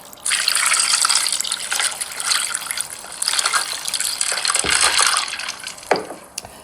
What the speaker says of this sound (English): so I'll put it in a cold water.